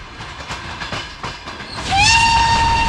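A steam train from Poland's Wolsztyn depot rolls on rails with rhythmic clickety-clack wheel beats, then a loud sustained whistle rises and holds over the rumble.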